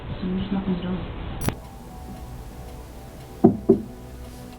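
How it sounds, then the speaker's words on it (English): Someone knocks on the door of room 5 in a hotel: two sharp, close raps in quick succession, following quieter talk and room noise. "he is going to knock on the door in a minute"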